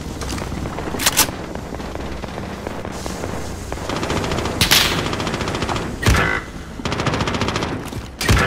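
Gunfire in the battle royale video game Warzone: repeated bursts of automatic weapon fire and single sharp shots crack out loud and close over a dense, continuous battlefield din, with no talking.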